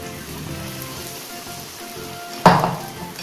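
Rava onion dosa batter poured onto a hot pan in a circle, making a soft crackling sizzle that jumps into a loud, sharp hiss near the end as fresh batter hits the metal.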